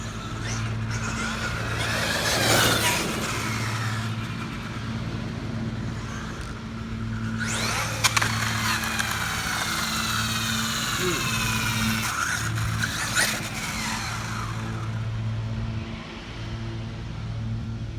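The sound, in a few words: Traxxas XMAXX 8S RC truck motor accelerating to top speed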